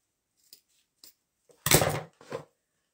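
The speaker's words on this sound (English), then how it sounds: "And then we'll cut the edges." Scissors snip the edges of a tray made from a wooden wine box, with a few faint isolated clicks followed by a louder, longer cut and one last shorter snip, close up and without speech.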